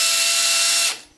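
A handheld drill spins a deburring bit to chamfer the ends of wooden dowels, giving a loud, steady high-pitched whir for about a second before it quickly winds down to silence.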